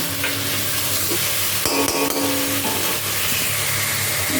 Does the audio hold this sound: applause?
no